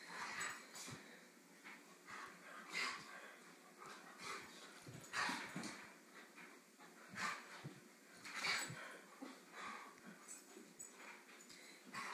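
Dogs and a puppy play indoors, trading soft whimpers, yips and small growly bursts in irregular clusters, fairly quiet and close, with no talking.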